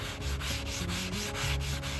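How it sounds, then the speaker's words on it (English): Hand sanding of a painted white chest drawer with 220 grit sandpaper: steady back-and-forth rubbing strokes, close and continuous, with a regular rhythm and no voices. "Sanding with 220,"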